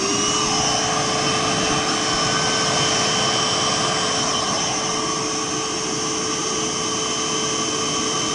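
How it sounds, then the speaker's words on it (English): Ridgid and Harbor Freight Bauer wet/dry shop vacuums run with a loud, steady roar and a constant high whine, unbroken and without speech. "We're going to test the input and output speeds on both of these vacuums"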